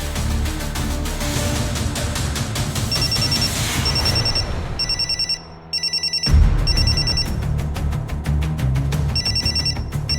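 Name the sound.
telephone ringing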